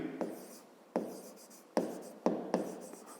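Pen writing numbers by hand on paper: a run of five short scratchy strokes, each starting with a sharp tap and trailing off, close and fairly quiet, with no talking.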